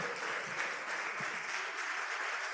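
An audience applauds at a Christian gathering on Christophobia, a steady wash of many hands clapping that holds evenly for the whole stretch with no voices on top.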